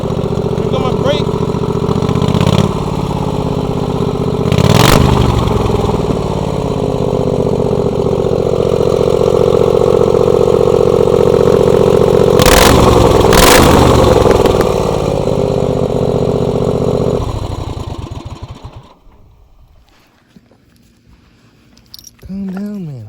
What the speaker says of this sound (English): That's the 23 horsepower Kawasaki.